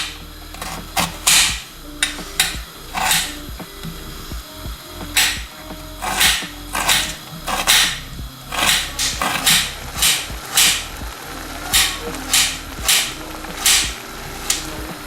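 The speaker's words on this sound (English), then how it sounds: "So basically de-skin the onion, and then once it's de-skinned, like I said, chop it up nice and fine." A knife chopping an onion finely on a cutting board, sharp rhythmic taps coming in quick bursts and steady runs, close and clear, with no talking.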